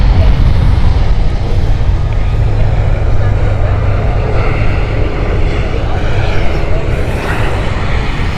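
At Amsterdam Schiphol Airport, an airliner's jet engines give a loud, steady roar that swells slightly toward the end and fills the air throughout.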